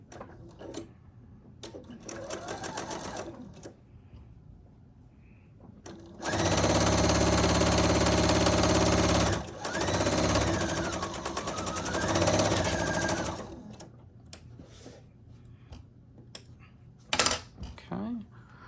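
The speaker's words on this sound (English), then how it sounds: "I'm going to stitch a 1/4 inch seam" A sewing machine stitches a quarter-inch quilt seam in a continuous loud run of about three seconds, then a second stretch of uneven speed, with quieter handling sounds around it.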